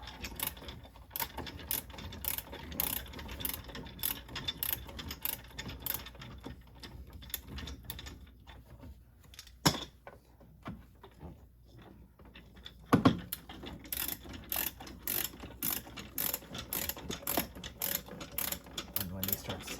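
Screws being driven into the plastic cover of a Victron Lynx Distributor, a close, quiet run of fine ratcheting clicks in bursts with short pauses and a couple of sharper knocks, no voices.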